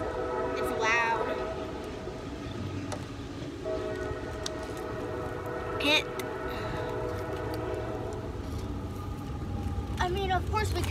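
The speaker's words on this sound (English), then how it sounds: "We really can't help the train, though." A loud train passes close by, its rumble and rolling wheels filling the scene with a few horn-like blasts and screeches, while people talk over it.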